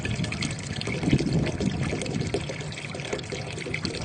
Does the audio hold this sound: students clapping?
no